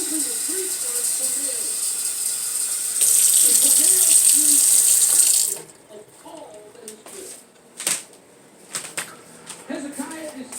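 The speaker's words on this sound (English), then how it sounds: "I will add 2 more cups of water." Water runs from a tap at a kitchen sink in a steady hiss that rises for a few seconds, stops, and gives way to clinks and handling sounds as someone talks.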